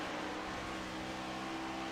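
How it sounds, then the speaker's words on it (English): A video game race car engine hums steadily at a distance, its throttle holding a fairly even pitch with faint rumbling underneath, during an online race at Dover. "Hear that throttle control for the 3 car."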